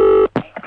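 An office telephone at Conservative Central Office rings once in a short loud burst, then is cut off. Brief sounds follow the ring.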